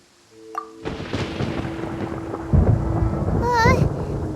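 Thunder in Genshin Impact: a low, swelling rumble builds and rolls on for several seconds, loud and close, over a brief game chime and a wavering tonal effect, with no talk.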